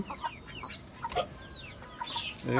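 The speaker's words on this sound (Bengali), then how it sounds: "খাবার দিয়ে দিলাম আর এর সাথে এই যে টাইগার মোরগটাকেও দিয়ে দিয়েছি" Chickens cluck and chirp softly on a rooftop farm where native hens are kept alongside a tiger rooster, scattered short calls at close range over quiet background.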